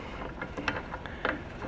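Quick metallic ratcheting clicks from tensioning a puller threaded onto a Lambretta scooter's magneto flange, several close, sharp ticks in a short burst over quiet background.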